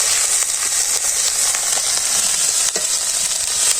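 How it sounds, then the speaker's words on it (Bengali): Ground chili paste and turmeric powder fry in a pan over a village cooking fire, giving a loud, steady sizzle with stirring scrapes throughout and no voices. "মরিচ বাটা, হলুদের গুঁড়ো, ভালো করে কষিয়ে নিই।"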